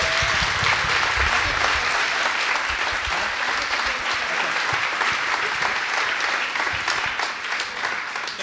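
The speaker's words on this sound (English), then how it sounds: "Let's give John one more round of applause" A crowd gives a sustained round of applause for a restaurant group CEO at a Startup Grind event in Wichita, dense continuous clapping that holds for several seconds and tapers slightly at the end.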